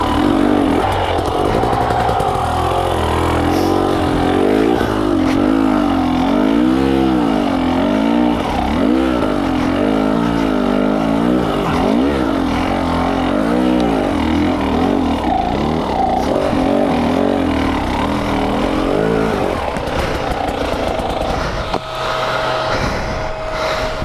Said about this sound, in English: I was basically just riding the clutch, slipping the clutch the entire time